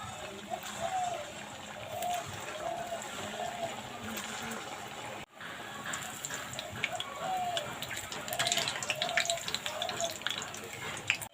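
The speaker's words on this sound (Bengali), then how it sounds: "তেলটা ভালো করে গরম করে নিয়েছি এবার মিষ্টিগুলো এক এক করে ছেড়ে দেবো" Puffed-rice langcha sweets frying in hot oil, a steady close sizzle and bubbling that runs throughout with a brief dip midway and louder crackling afterwards.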